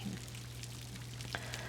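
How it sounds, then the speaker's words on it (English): Light rain patters softly in the background, a faint steady hiss with occasional small drops, alongside the low constant hum of a ceiling fan. "Just listen to the sounds around you, so the little bit of rain"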